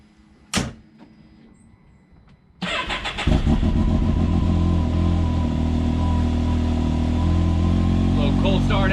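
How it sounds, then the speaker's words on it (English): A Can-Am engine cold starts after a brief clunk and a few seconds of quiet, catching with a rough crank and then settling into a loud, steady idle close by. "Little cold start action."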